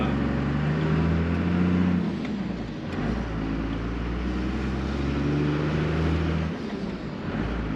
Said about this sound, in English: Turbo noises.